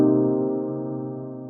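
An electronic chillhop piano holds one sustained chord through a lo-fi plugin, with a subtle pitch warble in the tone as it slowly fades, heard alone without talk.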